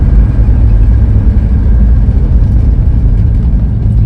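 A 1967 Dodge Coronet engine idles through its exhaust with a loud, steady low rumble, close by, with no changes in pitch.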